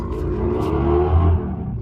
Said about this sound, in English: Sorry if you can hear motorcycles,